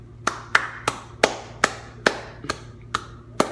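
Nine sharp hand claps at an uneven, loose pace, close and fairly loud, each with a short ringing tail over a faint low hum, with no voices.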